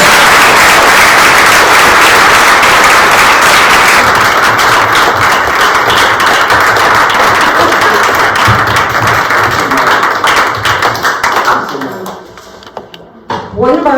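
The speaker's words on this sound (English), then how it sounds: "let's give them all a huge round of applause." A panel discussion audience breaks into loud, dense applause that fills the room for about eleven seconds before tapering off and fading near the end.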